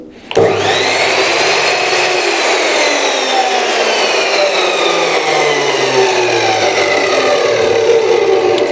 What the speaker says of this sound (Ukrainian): тепер ми робимо короткий запуск, тому що ми в офісному приміщенні